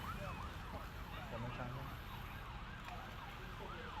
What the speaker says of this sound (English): You could hear all of the sirens just really painting the picture of what was going on in that area.